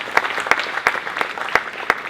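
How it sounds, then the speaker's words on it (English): Audience applause at the close of a talk event honoring organizers, an even wash of many hands clapping with a few sharper claps standing out, steady and moderately loud. "Yes, an applause to the organizers for that."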